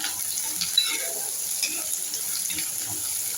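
A steady, crackling sizzle of onions frying in hot oil with mustard seeds and cumin, close by, with a few small pops rising above the hiss.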